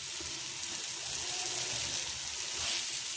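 Unnakkaya frying in a little ghee in a pan, a steady soft hiss and sizzle running continuously without pause.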